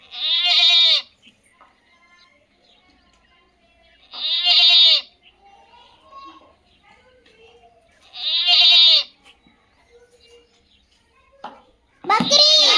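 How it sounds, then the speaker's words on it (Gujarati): Three loud bleats come at steady intervals, each about a second long, with quiet gaps between and a final cry cut off at the end. "કયું પ્રાણી હતું બકરી"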